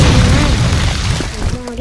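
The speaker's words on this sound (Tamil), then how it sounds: "வெடிச்சிட்டாங்க கைஸ்." A sticky bomb goes off in a Barry-themed video game, giving a loud, dense, rumbling boom that fills the whole moment with no gap, close and heavy.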